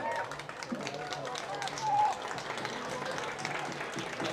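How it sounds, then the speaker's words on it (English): Crowd at a Gaelic football junior final between Newcastle and Tinahely applauds a substituted player walking off the pitch; faint, scattered clapping heard from a distance beneath ongoing commentary. "Kieran Doyle getting the applause off the pitch"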